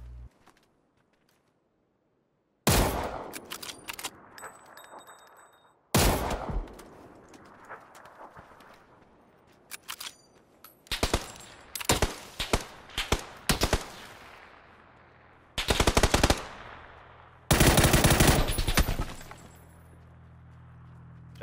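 Bursts of video game gunfire in a ranked match, rapid automatic volleys and single shots fired in clusters separated by brief quiet gaps, loud and close.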